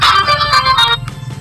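A cellphone rings with a loud electronic melodic ringtone, bright tonal notes for about a second before fading into a quieter hum.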